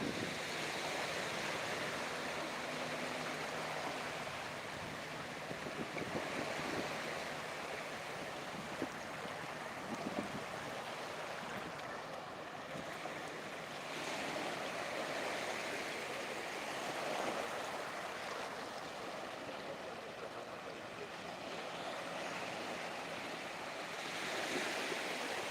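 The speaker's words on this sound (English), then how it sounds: "I wonder if you guys can hear the waves coming in." Ocean waves washing onto a shore in Thailand, a steady broadband surf roar with gentle swells over twenty-five seconds, mixed with some wind noise and no talk.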